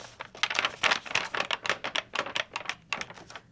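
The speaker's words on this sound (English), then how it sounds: "But hear the crinkle." Coffee-dyed paper from a junk journal crinkles close up in a rapid run of crisp, rustling crackles for several seconds, with no voice over it.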